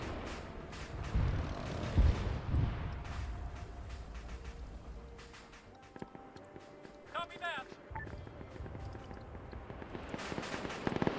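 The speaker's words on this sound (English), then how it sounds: "So I'm hearing some airstrikes coming in." Airstrikes strafing in Arma 3, a string of booming impacts and crackling bursts rumbling at moderate distance, interleaved with scattered pops and talk over the radio-like chatter.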